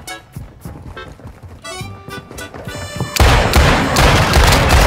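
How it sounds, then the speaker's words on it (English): A cruise missile strike lands in Modern Warfare 2, turning to a loud, dense roar of explosion noise that fills the back half after busy game effects and music-like tones. "Cruise missile inbound."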